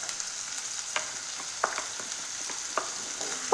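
Sliced onions and small shallots frying in a pan, a continuous bright sizzle with occasional scraping stir strokes and light pops, close and steady throughout, no voices.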